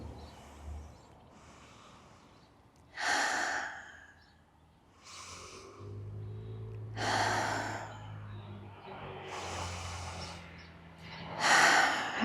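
Slow, deep breaths during a beginner mobility stretching routine, several long airy inhales and exhales at an even pace, close and fairly soft, with no talk.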